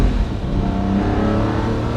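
A Lamborghini Murcielago LP640 Roadster's V12 engine rumbles and revs steadily at close range, a continuous loud mechanical drone with no talking.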